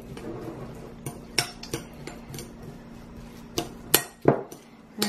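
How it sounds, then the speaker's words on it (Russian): A spoon scrapes and knocks against a bowl while mixing ingredients for an Armenian-style baked eggplant dish, with irregular clinks and taps over a low hum, fairly quiet and close, without talk. "Хорошо перемешиваем это все."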